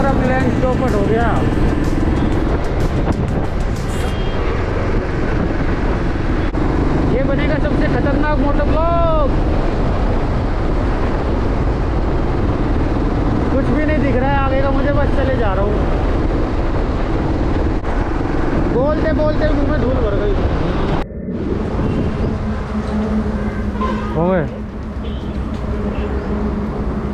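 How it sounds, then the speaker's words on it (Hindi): A strong dust storm wind roars against the microphone during a motorcycle ride from Dehradun to Delhi, a loud, unbroken buffeting rush that lasts throughout, with someone talking over it. "बहुत तेज़ धूल भरा तूफान आ गया बहुत तेज़"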